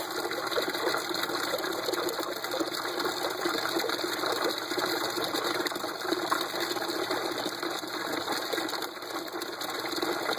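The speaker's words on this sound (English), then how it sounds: "this is with it in the middle, and it just started overflowing." Water overflowing and rushing through an ABS pipe siphon, a steady close gurgling wash with faint mechanical rattling underneath, unbroken throughout, no voices.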